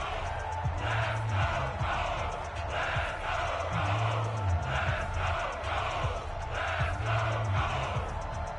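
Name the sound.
crowd cheering in Madden NFL 20 video game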